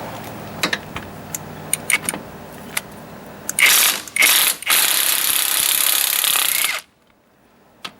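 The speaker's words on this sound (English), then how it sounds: "once we take the retaining bolts out of the steering box" A socket ratchet clicks in short bursts, then runs in longer rapid bursts, while removing the steering box retaining bolts on a 1997-2006 Jeep Wrangler TJ. The clicking is close and loud and ends abruptly before a quiet tail.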